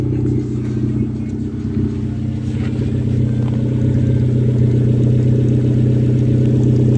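An engine running through a custom RT4WD exhaust, a steady low burbling drone close by that holds at a constant level throughout, without anyone speaking.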